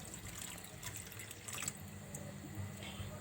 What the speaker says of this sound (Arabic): غادي نخوي هاد الماء